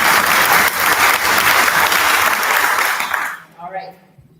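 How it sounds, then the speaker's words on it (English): Sustained, loud audience clapping at a school symphonette concert, dense and close for about three seconds before tapering off as a speaker starts talking. "So give a round of applause for Regina"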